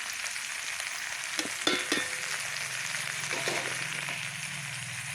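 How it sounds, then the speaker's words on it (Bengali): Cauliflower sautéing in hot oil during a village-style cooking session, giving a steady, close sizzle with a few brief stirring clatters near the middle. "তেলের মধ্যে আমি এখন কষাতে থাকবো বা একটু ভাজা ভাজা করে নেব"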